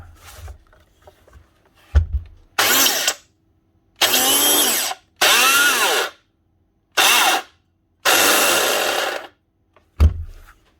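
A faulty Hitachi SB10V2 belt sander starts and stops in repeated bursts of about a second each, a harsh, loud, whining and rattling run with uneven pitch, separated by silences and a few low thumps.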